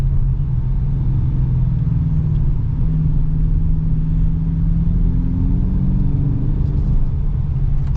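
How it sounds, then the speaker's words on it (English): A 2022 Dodge Challenger R/T Plus with its Hemi V8 rumbles while driving, a deep steady low growl with a slight rise in pitch midway, heard close from inside the car without speech. "Love the sound of the Hemi too."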